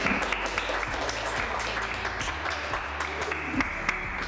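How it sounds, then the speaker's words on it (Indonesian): An audience at an Idul Fitri talk-show event applauds guest Bapak Ivan, with moderate, continuous clapping heard alongside background music. "Mari kita kasih tepuk tangan untuk Bapak."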